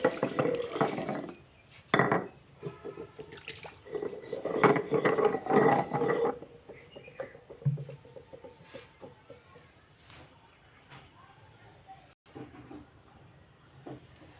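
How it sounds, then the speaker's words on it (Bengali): Water splashes and runs over a stone grinding slab as it is rinsed and scrubbed clean, a close, busy wash that fades to quieter trickles and a few knocks. "এবারে পাটাটা ধুয়ে নেব পরিষ্কার করে।"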